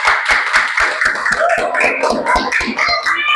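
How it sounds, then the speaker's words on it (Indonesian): A class claps for a student group, a loose run of sharp, distinct hand claps with a few voices murmuring underneath, close and fairly loud. "Tepuk tangan untuk kelompok 1."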